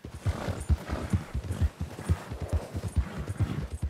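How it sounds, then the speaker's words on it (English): Horses pulling a carriage in Red Dead Redemption 2 clip-clop in a steady, even trotting rhythm, close and clear with no talking. "Only problem with our horses is they get tired."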